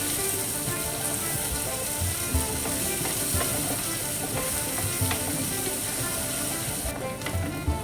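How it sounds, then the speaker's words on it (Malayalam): Finely chopped onion, ginger and green chilli with curry leaves sauté in hot oil, a steady close sizzle and crackle running unbroken throughout, with no talking. "നല്ലപോലെ വഴറ്റി കൊടുക്കുക."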